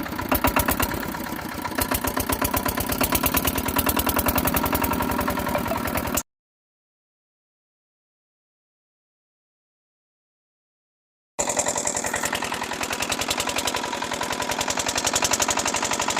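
Fishing boat engine on the Padma river running with a loud, rapid mechanical chugging close by, cut by a gap of silence and then resuming just as steady.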